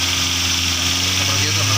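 A car engine idles and is held at raised revs with a steady, close drone and faint mechanical vibration while its radiator is flushed without disassembly.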